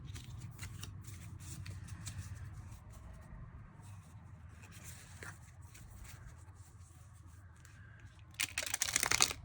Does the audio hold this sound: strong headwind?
no